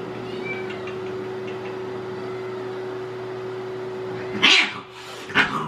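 A cat gives two short meows near the end, after a steady hum that runs under a mostly quiet room.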